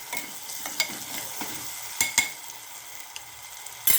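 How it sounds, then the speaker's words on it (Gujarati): Chopped onion and green garlic fry in hot oil with mustard seeds in a close, continuous sizzle. Sharp spatters and sudden crackling bursts break through it, and no one speaks. "કાંદા લીલું લસણનો વઘાર કરી નાખ્યો છે આપણે સરસ મજાનો."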